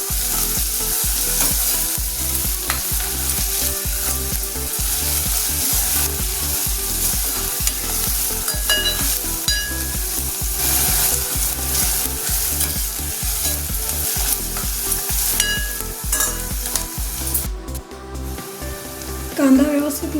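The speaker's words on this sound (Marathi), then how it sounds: "कांदा आपण लाल करून घेणार आहोत." Onions fry in a pan until browned for a Maharashtrian thali, with a steady close sizzle and rhythmic stirring scrapes throughout, a voice faintly heard at times.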